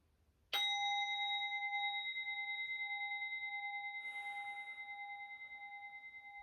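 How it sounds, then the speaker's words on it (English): A single meditation bell is struck once, ringing out with a clear sustained tone that slowly decays over several seconds in a quiet room, with a soft rustle partway through. "I'm going to ring our bell, and that's your cue to start to make your way back."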